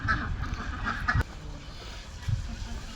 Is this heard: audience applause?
no